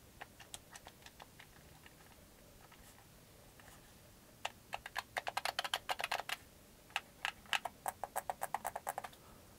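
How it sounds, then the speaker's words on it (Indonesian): Buttons on a Sony DualShock 2 controller for a PS2 Slim are pressed in quick plastic clicks, sparse at first and then in rapid bursts, close and fairly quiet with no talk. "kita akan cek sound dari tombol-tombolnya"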